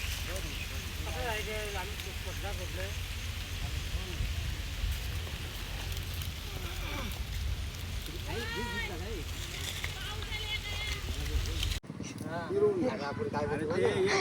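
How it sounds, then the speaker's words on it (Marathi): Steady wash of falling rain fills the background while several people talk over it. "पाऊस आता"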